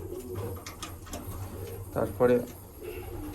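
A Malbai pigeon coos in a low, throaty burst near the end, close and clear, after softer bird sounds, while someone speaks briefly over it.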